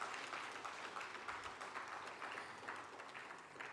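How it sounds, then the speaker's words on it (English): An audience at a formal launch event in Nigeria gives a steady round of applause, many hands clapping together in a continuous, fairly faint wash without any voices over it. "I think we need to give him a very, very loud round of applause"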